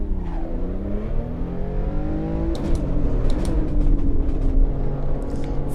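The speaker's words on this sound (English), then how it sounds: "the downshifts on this car are just so good" Race car engine in Assetto Corsa EVO at Imola in clear weather, revving with falling and rising pitch sweeps as it downshifts, loud and close with short blips of throttle, no talk.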